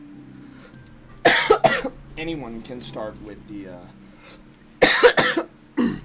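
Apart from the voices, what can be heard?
coughing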